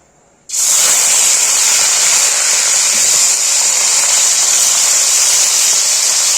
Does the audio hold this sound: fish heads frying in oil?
yes